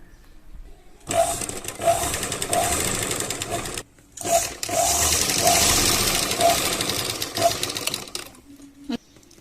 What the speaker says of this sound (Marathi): आपल्याला हा कापड असा पलटून यावर दाब शिलाई टाकून घ्यायची आहे